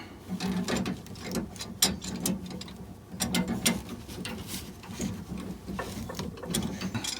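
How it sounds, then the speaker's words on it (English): A wrench clicks and ratchets in short irregular bursts while retightening the packing nut on a main water shut-off valve, the close metallic taps repeating throughout with no talking. "I'm just tightening it, retightening this nut."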